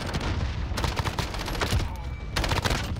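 Rapid bursts of RAM-7 assault rifle fire in the shooter game Modern Warfare, close and loud, with quick repeated shots in several strings separated by brief pauses.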